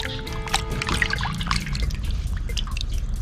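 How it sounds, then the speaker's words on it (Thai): Fish being rinsed in plain water by hand, with close, lively splashing, dripping and trickling throughout and no voices. "ล้างด้วยน้ำเปล่าอีกรอบหนึ่ง"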